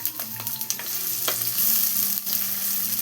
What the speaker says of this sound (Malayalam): ആദ്യം നമുക്ക് സവാള ഇതിലോട്ട് ഇട്ടിട്ടൊന്ന് വഴറ്റിയെടുക്കണം.